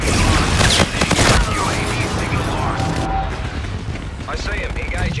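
Loud, dense rapid-fire strafing from an aircraft gun run in a video game, a continuous rattling roar that is heaviest in the first second and a half, then settles into sustained rumbling with mechanical noise.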